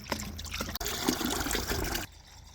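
Coolant and distilled water mix poured through a funnel into the radiator of a DD15 engine, a steady liquid trickle and gurgle running for about two seconds, then stopping abruptly.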